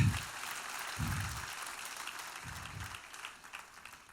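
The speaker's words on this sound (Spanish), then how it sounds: "¿Cuánto le da un aplauso al Señor?" A church congregation applauds in a steady, even wash of clapping; it is fairly quiet, with a few deeper thumps pulsing underneath about every second and a half.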